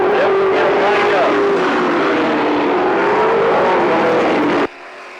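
Late model race cars warm up their tires on a track, a loud sustained engine roar with shifting pitch as they circulate, under a voice talking, cutting off abruptly near the end.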